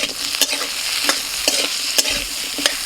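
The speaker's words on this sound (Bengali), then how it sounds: "প্রথমেই আলুটা ভেজে নেব।" Potatoes seasoned with salt and turmeric fry in a pan with a steady, close sizzle, broken by regular scraping clicks as they are stirred, and no voices.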